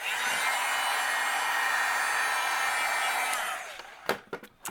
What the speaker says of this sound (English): then we'll heat up our heat gun